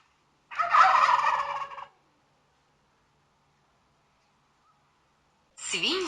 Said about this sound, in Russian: Индейки.